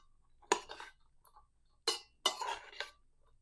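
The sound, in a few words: stirring a pot of black-eyed peas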